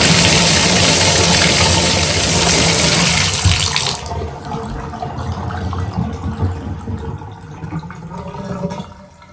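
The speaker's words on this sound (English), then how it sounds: "So I'm going to run the water again and test it again." A shower tap is opened so water pours loudly in a steady broadband rush, then drops to a quieter, softer flow after a few seconds while running continues to the end.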